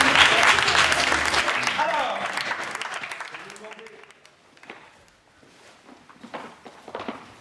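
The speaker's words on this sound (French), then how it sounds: "Merci Odile, on l'applaudit." An audience at an improvised theatre match applauds, strong at first and then thinning out into scattered claps, with voices heard as the clapping dies down.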